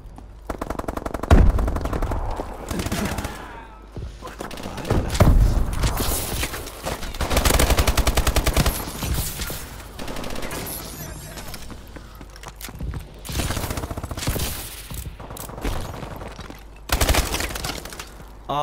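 Rapid automatic gunfire bursts and single shots crackle through a Call of Duty: Advanced Warfare online match, coming in repeated loud volleys with short gaps between them.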